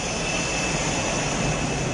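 A stealth jet aircraft's engine gives a steady, loud, broadband roar that holds unchanged throughout, with no voices.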